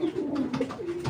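A racing pigeon coos close by, a low soft rolling call repeated a few times in quick succession.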